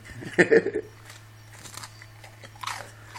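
A sharp crunch of a prawn cracker being bitten, followed by softer crackling chews, close to the mouth.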